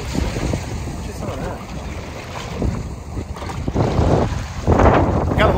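Strong wind buffets a microphone while kayak fishing on open water in early March, producing a steady low rumbling roar with gusts that swell louder toward the end, over water sounds and someone talking.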